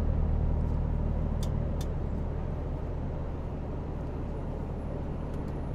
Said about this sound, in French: les véhicules qui roulent